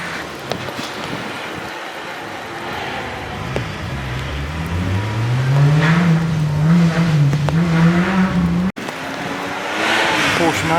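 A front-wheel-drive MG rally car at the Goodwood Festival of Speed drives past, its engine rising in pitch as it accelerates, loud and close over crowd noise, with a voice talking during the pass.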